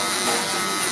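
A cordless Wahl Magic Clip hair clipper buzzes steadily at close range with its lever closed, a bright continuous electric hum lasting about a second with no break.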